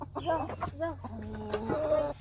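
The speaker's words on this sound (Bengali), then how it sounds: "মুরগির ঘর দেখি মুরগি ডাকতেছে" A hen in a backyard coop clucks in a short run of close, repeated, rising calls with brief pauses between them.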